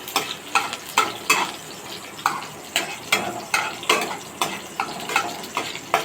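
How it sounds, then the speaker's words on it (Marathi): Garlic and green chillies frying in hot oil, with a soft sizzle under repeated scraping strokes of a spatula stirring in a steady rhythm, close and moderately quiet. "त्यानंतर हिरवी मिरची आपण टाकूया यामध्ये."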